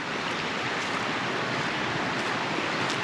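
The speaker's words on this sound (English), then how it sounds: "looks like we're coming up on another pretty cascade here" A creek in a Pennsylvania nature preserve pours over a small cascade, giving a steady, full rushing wash of water with no voices.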